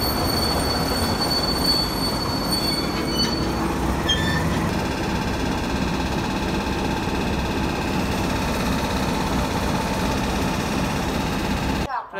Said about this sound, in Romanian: acum aștept ca să vină trenul.